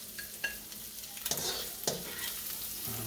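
Turmeric fried rice with ham scooped and scraped out of a pan, with a quiet sizzle beneath a few sharp spatula scrapes and knocks, close by.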